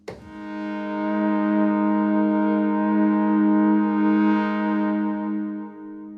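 A single sustained synthesizer tone from a DeepMind 12, dark and rich in harmonics, swells in with a shimmering upper sheen and holds steadily for several seconds before fading.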